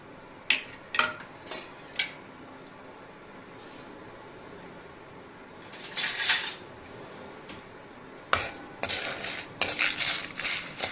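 Tamarind, coconut and spices roasted in oil in a pan, heard as a spoon clinking and scraping against the metal in short bursts, with a soft continuous background hum between the strokes.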